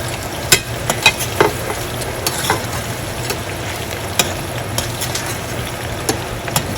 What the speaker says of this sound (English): The oil is hot, so I'm just gonna go ahead and throw my onions in there.